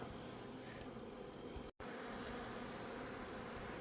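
A dense, steady hum of many honey bees buzzing close by at a hive, with a brief dropout in the middle.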